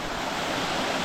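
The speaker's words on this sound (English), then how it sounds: "water is running from that way, going, and then down there there's a waterfall" Water runs down a stream toward a waterfall, a constant soft rushing wash with some wind buffeting the microphone, steady across the brief moment and with no talking.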